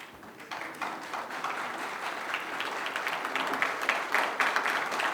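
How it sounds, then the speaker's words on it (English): Audience at a Lagos gubernatorial debate clapping in steady sustained applause that grows slightly louder, a dense roomful of hands with no talk on top. "The more you clap, the more you take his time."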